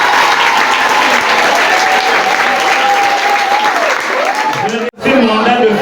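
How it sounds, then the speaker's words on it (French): Sustained loud applause from a church congregation at a Mass for a Catholic school's day of prayer, clapping steadily for the parish music group, with a brief drop near the end before it resumes. "Acclamez pour eux."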